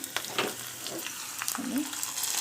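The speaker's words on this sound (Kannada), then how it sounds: "ಒಗ್ಗರಣೆ ರೆಡಿಯಾಗಿದೆ ಈಗ ಒಗ್ಗರಣೆನ ಸೇರಿಸ್ಕೊಂಡು ಸಾಂಬಾರಿಗೆ" Spiced tempering poured into ridge gourd sambar gives a brief crackling sizzle with a few sharp pops, close by and moderately loud, settling into a softer hiss.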